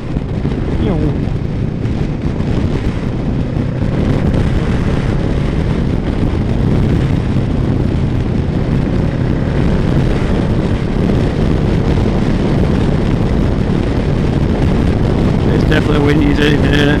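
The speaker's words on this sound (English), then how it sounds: "Windy as anything, isn't it?" Strong wind buffets the microphone outdoors on a road trip, a steady, loud roaring rumble that fills the whole stretch without letup.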